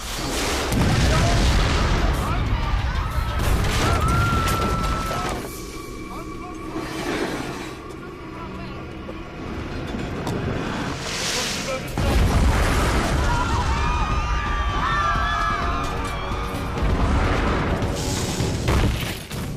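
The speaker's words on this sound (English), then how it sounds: "Each cannon packed with up to 10 stone balls." Heavy siege cannon bombardment against Constantinople, with cannons loaded with stone balls firing deep booms and bursts in waves, loud and close, surging and easing over the stretch amid clattering debris.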